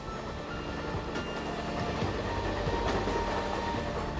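An AGV high-speed train running on rails, with a continuous loud rumble of wheels and carriages plus intermittent high-pitched wheel squeal, heard close and alone.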